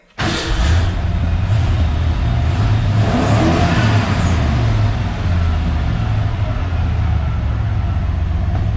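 Engine of a 1988 Ford F150 pickup, just fitted with a new fuel pump, catching and running loud and close, with a revving surge near the start that settles into a steady, rumbling idle.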